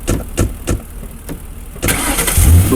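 A car engine in a video game starts up and revs near and loud, after a few short thumps and knocks; the engine roar builds and holds steady toward the end.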